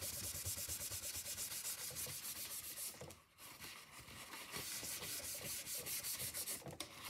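Acorn and Becky ink is rubbed into the grooves of a stamped faux linen craft background, making a steady, dense, close scrubbing rasp that pauses briefly midway before continuing.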